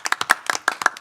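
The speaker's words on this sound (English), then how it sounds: "Clap, clap, clap." A quick burst of crisp handclaps at an awards event, about a dozen sharp, close claps in an uneven rhythm with no talking.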